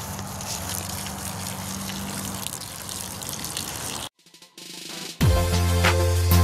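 Collected rainwater from buckets pours into a container for a DIY garden rainwater system, a steady splashing gush that stops abruptly, then a short pause before pouring resumes with a deeper, fuller tone.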